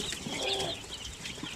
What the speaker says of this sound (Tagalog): yan po ng mga sisiw yung gusto niyang bilhin